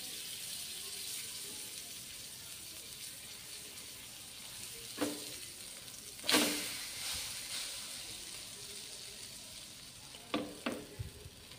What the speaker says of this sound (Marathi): इथे बघा आपण टाकून घेतोय थोडंसं बटर